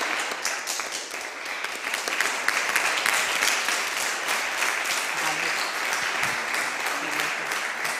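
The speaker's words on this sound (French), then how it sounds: "On peut applaudir quand même Nicolas" Applause fills a municipal council meeting hall, a steady dense wash of many hands clapping that holds for the full stretch at fairly even loudness, with a few faint voices underneath.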